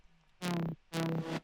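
Layered square-wave synth stabs from a Serum preset, widened with chorus and pumping with sidechain, hit twice as bright sustained chords of a bit under half a second each, separated by a short gap, loud and alone.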